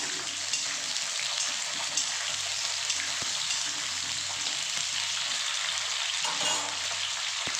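Capsicum, potato and onion fry lightly in a pan, making an even, hissing sizzle that runs steadily throughout, with a couple of faint clicks and no voices.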